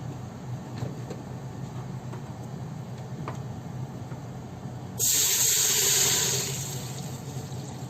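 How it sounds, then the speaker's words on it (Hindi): Water is poured into a pot already holding cinnamon pieces and curry leaves to boil rice for chicken biryani. A strong, steady rushing pour starts partway through over faint kitchen background and lasts about two seconds before easing. "और इसके बाद हम डालेंगे इसके अंदर पानी।"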